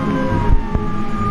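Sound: police car sirens

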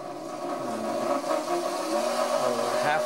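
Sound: NanRobot D4 electric scooter tire rotating slowly

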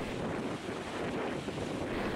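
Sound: strong wind and high waves at sea off Tuban

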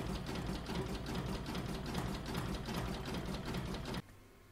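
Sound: embroidery sewing machine stitching mug rug design

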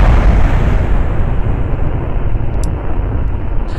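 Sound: explosions in the video game Kerbal Space Program

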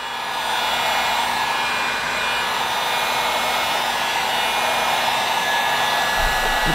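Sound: heat gun blowing on high fan speed

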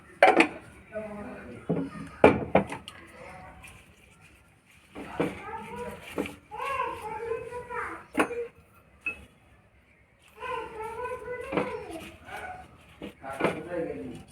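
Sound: pot lid and bowl being handled in kitchen

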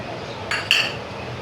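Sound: mixing sago and peanut powder in a bowl

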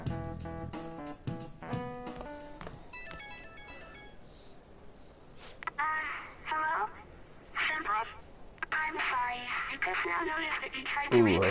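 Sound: phone ringing in video game Persona 5 Royal

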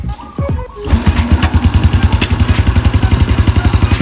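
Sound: motorcycle engine starting

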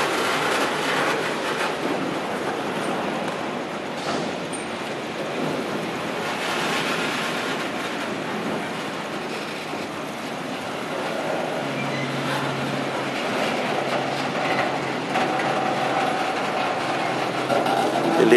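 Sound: freight train led by SD40-3 locomotive passing

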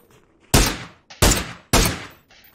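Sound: gunfire in video game PUBG

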